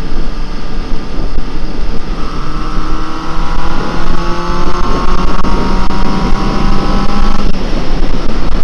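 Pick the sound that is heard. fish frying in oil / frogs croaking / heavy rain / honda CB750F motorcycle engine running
honda CB750F motorcycle engine running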